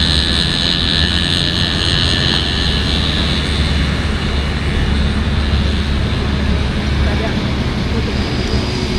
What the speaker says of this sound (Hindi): अभी हम ड्रोन वगैरह टेस्ट कर रहे हैं।